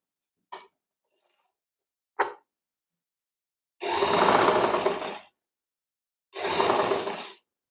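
A sewing machine stitches a blouse front seam in two roughly one-second mechanical whirring bursts, preceded by two brief sharp clicks, close and fairly loud with silence between, no voices.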